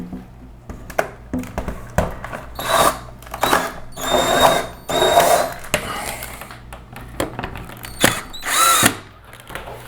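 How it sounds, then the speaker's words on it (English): A power drill loosens the screws on the right side of a single-hung retrofit window frame, working in repeated short, close whirring bursts separated by brief pauses and handling noise. "So the way we alter that now is to go in and loosen these screws on this side, on the right side."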